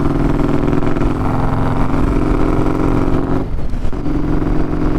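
A custom Harley-Davidson Road Glide motorcycle rumbles steadily on a ride, its engine note dipping briefly during a gear shift before resuming, loud and close with wind noise throughout.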